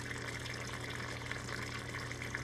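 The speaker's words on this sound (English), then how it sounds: "that HLT is recirculating the hot water" Hot water recirculating through a pump and a submerged coil in a homebrew hot liquor tank makes a steady, unbroken rushing and gurgling wash with a low hum underneath. It is moderately faint and carries on without pause.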